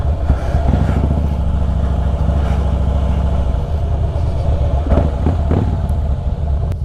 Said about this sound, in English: You're getting a massage with the sound of this engine.